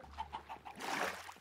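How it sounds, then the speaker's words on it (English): Repeated clucks from a Minecraft chicken in the Vault Hunters modpack, a short run of evenly spaced calls at moderate volume that is then covered by a burst of broadband noise. "I hear a chicken."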